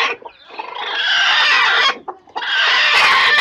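A brooding hen sitting on a clutch of eggs clucks loudly and close in two long, drawn-out bursts separated by a brief pause.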